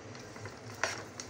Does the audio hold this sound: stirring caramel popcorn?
yes